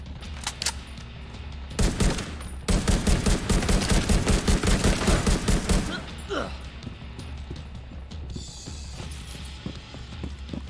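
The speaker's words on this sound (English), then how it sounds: "he's shooting now. He wasn't before." Enemy gunfire in The Division 2, with a long rapid automatic burst of evenly spaced loud shots at close range, scattered single shots before and after, and a player talking.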